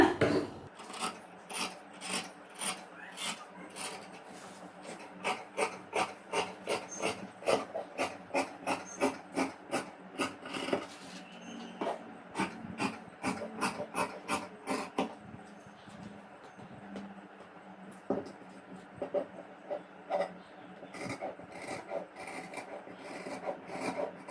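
Scissors cut fabric along a marked line for girls' shorts, giving a run of quick, regular rasping snips close by with no talking.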